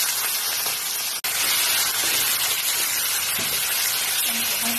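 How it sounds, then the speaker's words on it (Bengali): Prawns coated in salt and turmeric fry in hot mustard oil, a loud, steady close-up hiss and sizzle broken by one brief cut, with faint soft stirring sounds beneath. "আর এই যে সর্ষের তেল গরম হয়ে গেছে, এইবার এর মধ্যে হালকা করে ভেজে নিচ্ছি"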